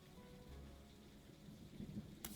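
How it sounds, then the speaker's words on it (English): Steady rain heard indoors from within a room, a soft continuous patter with low rumbling underneath and a faint tap near the end, quiet and distant, with no voices. "Why the hell do I hear the rain so vividly?"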